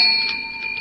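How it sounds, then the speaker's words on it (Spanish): A single bright bell strike rings out loud and close, its clear tone sustaining and slowly fading with a faint shimmer, no voices. "Segundo campanazo"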